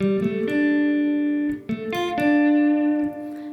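A guitar plays a simplified version of an iconic riff melody, clean plucked single notes ringing out in a short phrase near open strings, close and alone with no talk.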